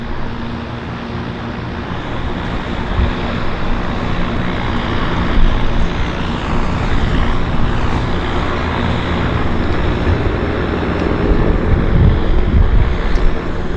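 A propeller aircraft engine drones steadily at a harbour floatplane airport in downtown Vancouver, a broad continuous roar with wind buffeting the microphone, swelling slightly toward the end.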